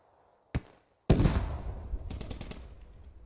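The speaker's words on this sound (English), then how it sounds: "I just heard a vehicle explode." A vehicle explodes in an online military shooter game, a sharp distant crack followed by a loud booming blast that rolls and crackles into a fading rumble.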